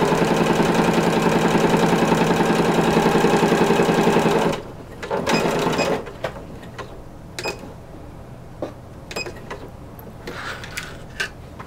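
A sewing machine runs steadily for a few seconds, stitching a 5/8-inch seam on a corset bone casing, then stops, leaving scattered soft clicks and handling noises.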